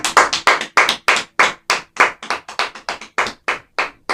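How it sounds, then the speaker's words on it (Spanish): Rhythmic group clapping at a church gathering, loud and close, with around twenty crisp claps at a steady, even beat and no voices. "Un fuerte aplauso al Espíritu Santo."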